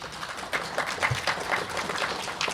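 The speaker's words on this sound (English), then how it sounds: "Yes, you can applaud him." Applause from an audience at a membership meeting: a dense, steady patter of many hands clapping at moderate volume for a couple of seconds, with no voices over it.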